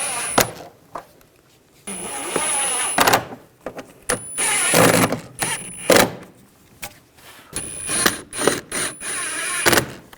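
Screws being tightened on the rear shock mount of a 2009-2017 Volkswagen Tiguan, bursts of ratcheting and power-tool whirring broken by short pauses and metallic clicks, close and fairly loud.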